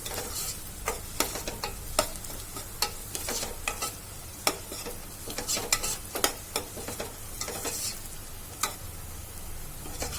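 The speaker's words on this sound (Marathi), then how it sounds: "आपला कांदा आता शिजत आलेला आहे आपण त्यात एक मिरची एक लांब लांब कापून टाकू" Onions frying in a pan for chicken kolhapuri give a continuous sizzle, punctuated by frequent sharp clicks and scrapes of a utensil stirring against the pan.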